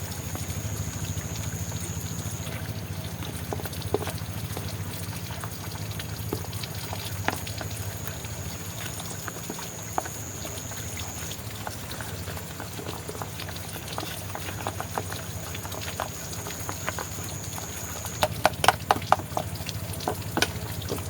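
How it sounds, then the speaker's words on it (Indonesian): Water added to a pot of cabbage and bird's-eye chili dish being stirred, a continuous bubbling, sizzling boil with scattered scraping clinks of the spoon toward the end. "Selanjutnya kita kasih air dulu teman-teman. Kita aduk sampai rata teman-teman."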